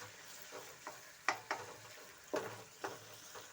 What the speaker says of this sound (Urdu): تو یہ فرائی ہو رہا ہے۔